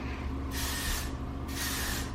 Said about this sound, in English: So I'm gonna spray the heat protectant in.